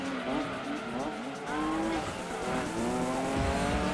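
Racing car engine in the video game Gran Turismo 2, with a Subaru among the cars, revving hard through rising and falling gear changes, tires squealing at moments, loud and continuous.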